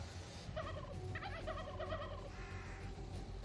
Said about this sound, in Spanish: ¿Está viendo el montón de pavos que hay aquí, tío?